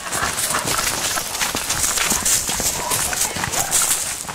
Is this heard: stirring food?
no